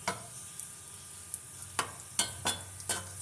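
Seviyan vermicelli for a sweet dessert sizzle in hot oil while a spoon stirs, giving a faint, steady hiss broken by several sharp scraping clinks against the pan.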